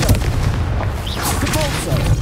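A Confringo blasting spell explodes in Hogwarts Legacy on PS5, a loud, dense burst of booming impact noise filling the short moment, with a voice briefly heard over the blast.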